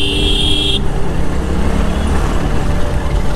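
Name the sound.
heavy road traffic near Patna metro construction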